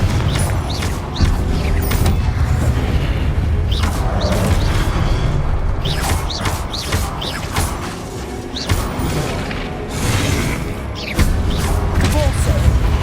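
A blasting spell erupts in the Hogwarts Legacy video game, a loud booming burst with a crashing thud, followed by repeated impacts and whooshes over a busy, constant game soundscape.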